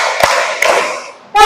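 Sharp, loud hand claps ring out in a reverberant room as part of a counted clapping routine at an Indonesian school training session, two separate claps followed by a third just starting.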